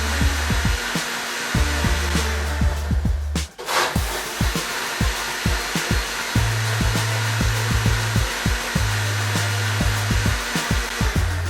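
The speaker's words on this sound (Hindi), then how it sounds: "और ग्राइंडर का बटन ऑन कर देंगे।" A mixer grinder blends a mango milkshake with sugar, giving a loud continuous motor whir with rhythmic churning pulses and a brief pause partway through, with no talk.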